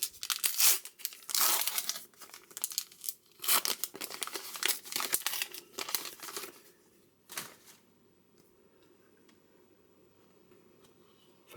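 Foil wrapping of a Panini Adrenalyn XL FIFA World Cup 2026 card packet crinkles and tears close up in bursts of sharp crackling, then goes quiet with a few faint rustles.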